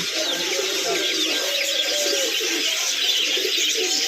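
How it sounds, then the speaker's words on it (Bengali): A dense chorus of birds chatters and calls nonstop, with pigeons cooing low beneath the bright twittering, loud and close. "পাখির আওয়াজে কেঁচের মেচের কিছু বোঝা যায় না"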